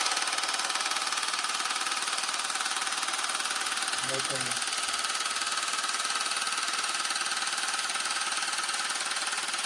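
An at-home medical device for impotence runs continuously, a loud, harsh, buzzing mechanical drone that fills the whole stretch, with one brief spoken word partway through.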